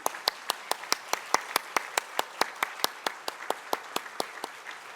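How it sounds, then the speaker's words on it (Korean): Steady, evenly spaced claps ring out at a brisk rhythm during a Sunday church service, fairly faint, with no voices over them. "박수 한번 보내시기 바랍니다"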